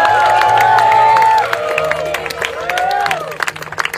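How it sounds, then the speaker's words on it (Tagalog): Wedding guests applaud and cheer for the newlyweds, a loud continuous burst of clapping and crowd noise that tapers after a second or so, with voices shouting over it. "Let's give them a round of applause."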